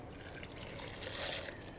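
Cooking water from boiled garlic and onion is poured into a blender over red chiles, making a brief, close splashing trickle of liquid.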